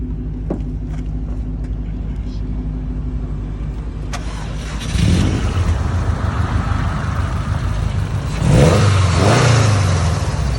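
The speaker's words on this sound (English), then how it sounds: "Good old boxer sound." A built Subaru STI boxer engine idles with a low burble, then is revved twice, each blip rising into a loud, throaty rumble before dropping back.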